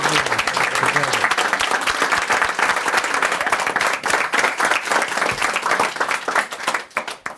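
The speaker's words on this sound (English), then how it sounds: "I should have asked everyone to give you a round of applause." An audience gives a sustained round of applause at a close-up card magic performance, dense clapping that stays loud for several seconds before thinning out at the end.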